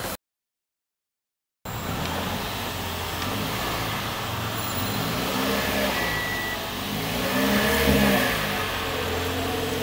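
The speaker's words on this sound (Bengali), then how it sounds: "টিআরডি স্পোর্টিভো বডি কিটটার সাথে আপনার একটা ফাংশনাল ডুয়েল এক্সস্ট আসছে, এবং এটা সাউন্ডটা একটু কাছাকাছি নিলে দেখানো যাবে" Toyota Aqua S Style TRD with a TRD Sportivo body kit and functional dual exhaust, engine revving up steadily and close by, rising briefly in intensity before settling, after a short silent gap at the start.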